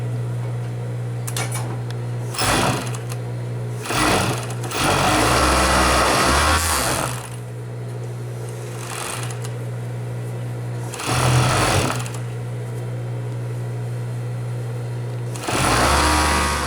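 Overlock sewing machine stitching the side and bottom edges of a skirt yoke, running in several loud whirring bursts of one to three seconds separated by quieter pauses over a steady hum.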